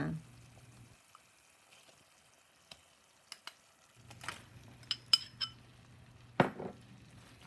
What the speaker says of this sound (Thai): แล้วก็ผัดหมูกับเครื่องแกงให้เข้ากันนะคะ